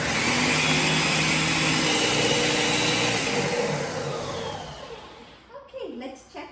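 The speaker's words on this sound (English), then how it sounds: "depending on your blender, of course, until the mixture is liquefied" A blender running at high speed, liquefying a mochi rice mixture, a loud steady whirring drone that slows and winds down toward the end.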